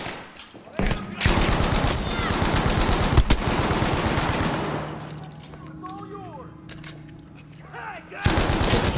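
A Bren gun in a hardcore team deathmatch on Iwo Jima in a video game fires long automatic bursts, loud and close. Voices and distant battle noise fill a quieter middle gap before another burst at the end.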